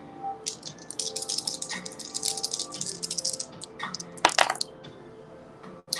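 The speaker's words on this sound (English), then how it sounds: "I'm gonna roll the dice actually" Dice rattle steadily in a shaker for a tarot reading, then tumble out with a sharper clatter near the end. The sound is close and fairly loud, with no voices.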